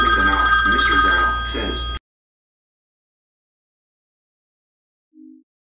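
A telephone rings for about two seconds, loud and close with a bright warbling tone, then cuts off abruptly into silence, followed by a single short low beep.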